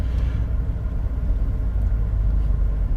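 Steady low engine rumble and road noise from a car interior, picked up by a camera mounted behind the steering wheel while driving uphill, loud and continuous with no voices.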